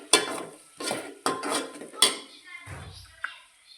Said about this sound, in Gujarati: અંદર એડ કરશું બનાવીને રાખેલી પેસ્ટ મિક્સ કરી લઈશું